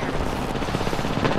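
Rapid bursts of video-game gunfire crackle throughout, a dense, steady rattle of shots at close range with no pauses and no talking over it.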